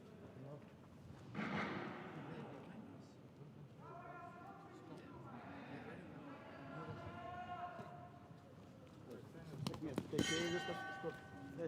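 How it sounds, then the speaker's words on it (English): A boxing bell rings from a neighbouring ring at a youth world championship arena, heard as a few distant metallic clangs under an announcer's commentary and crowd murmur. "That's the bell from ring B."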